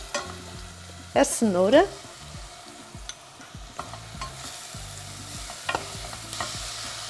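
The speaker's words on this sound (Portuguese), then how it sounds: "Vou envolver, vou deixar refogar 1 minutinho." Leek and carrot being stirred and sautéed in a pan, with scraping utensil strokes over a low sizzle and a brief spoken remark near the start.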